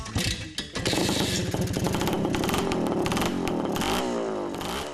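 A small 1970s motorcycle engine of 35 horsepower, on a bike under 100 kilograms, kicks into life and settles into a loud, rattly, close idle with uneven revving.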